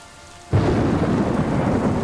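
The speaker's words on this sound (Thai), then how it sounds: "ฝนตก ฝนตก" Rain and thunder from the video game Superliminal burst in suddenly after a quiet moment, a loud continuous roar of downpour with a thunder rumble, steady to the end with no talking.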